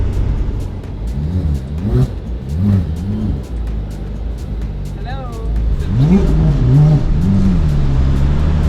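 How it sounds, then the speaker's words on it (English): A Porsche 997 GT3 with a faulty air conditioner accelerating in second gear through traffic: the engine note rises and falls in several revving swells inside the cabin, with faint traffic around. "We're gonna try to slow down just a little so we can get a small spurt on second gear."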